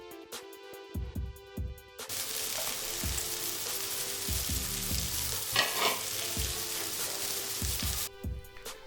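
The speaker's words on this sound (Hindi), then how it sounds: "अब ऑनियन को आलू के साथ अच्छी तरह से फ्राई कीजिए ताकि ऑनियन का फ्लेवर सब्जी में निखर कर आए।" Red onion slices fry with potatoes in a pan: a loud, steady hiss of hot oil runs for several seconds, framed by quieter stretches with soft thuds and stirring knocks at the start and end.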